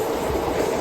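An intercity train runs at speed on a railway route in Kerala, producing a steady, close rumble of wheels and carriages throughout the brief moment.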